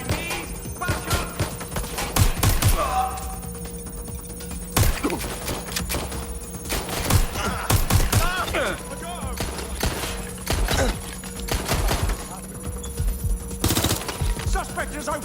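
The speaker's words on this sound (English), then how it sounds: "Suspect has opened fire! Taking cover! Shots fired!" Gunfire in Watch Dogs Legion, loud bursts and single shots scattered across the scene with sharp cracks, mixed with shouting voices and a steady mechanical hum.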